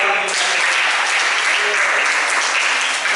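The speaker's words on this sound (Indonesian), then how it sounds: "Tepuk tangan dulu sesuai" Applause from a classroom group of students, a dense, steady patter of clapping hands lasting a few seconds, loud and close, with a voice briefly audible under it.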